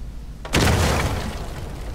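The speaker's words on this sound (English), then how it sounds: "I actually forgot they had dynamite in this game." A dynamite explosion in the video game Uncharted 4 erupts as a single loud, sudden boom about halfway through, then decays into a long rumbling tail with no talk over it.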